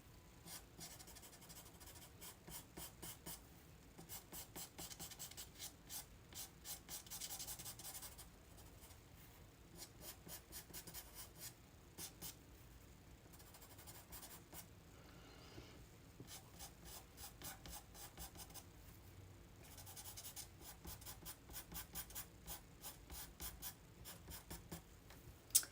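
Pastel pencil strokes blend color on textured paper, giving a quiet, steady scratching and rubbing with rhythmic bursts that continue almost without pause and no talking.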